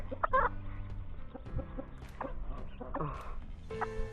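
Hens with their chicks clucking outdoors while foraging: soft, close clucks and peeping chirps scattered across the clip, with someone talking quietly over them.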